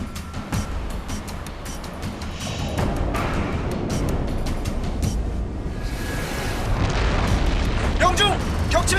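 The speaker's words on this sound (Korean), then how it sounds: "어뢰 발사. 발사!" A torpedo launches and explodes in a naval submarine documentary, deep booms and bursting blasts rolling under dramatic sound effects, with voices speaking over the loud, rumbling mix throughout.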